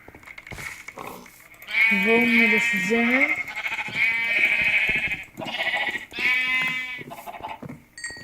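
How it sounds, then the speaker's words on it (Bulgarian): Sheep in the video game Minecraft bleat repeatedly in wavering, nasal cries that overlap and come close together, loud and near, while someone speaks in Bulgarian over and between them. "сега малко овце за легло."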